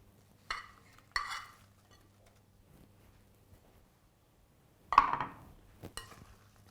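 Roasted crunchy potatoes are folded into a cheese mayo dressing in a bowl: a few separate scraping stirs, brief and close, with quiet gaps between them.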